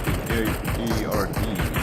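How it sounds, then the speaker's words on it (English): Rapid bursts of gunfire crackle in a PUBG Mobile match, repeated automatic shots pulsing in quick succession under a faint bed of talk. "looks like they are shooting at team"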